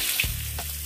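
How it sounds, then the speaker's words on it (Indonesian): Ingredients for a three-flavour prawn dish sizzle steadily in hot oil in a pan, with a couple of soft clunks from stirring over the constant frying hiss. "Kita tumis bahan ni dahulu sehingga naik bau"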